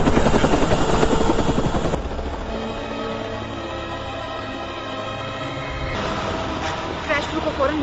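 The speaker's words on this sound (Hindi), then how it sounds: "बीच में हमारा हेलीकॉप्टर गिरने वाला है।" Cartoon helicopter rotor noise, a loud, steady whirring throbbing that stays continuous for the whole stretch, with brief talk-like bursts and music mixed in.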